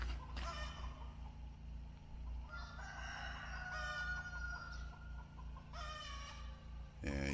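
Farm chickens and a rooster call repeatedly at a moderate distance, with drawn-out crowing and clucking phrases over a steady low hum, while a crow stalks the flock.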